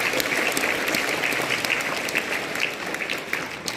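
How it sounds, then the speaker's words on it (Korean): An audience at a Christian conference lecture on family claps during a talk, steady, moderately loud applause with distinct individual claps popping through for a few seconds. "박수 한번 쳐주세요."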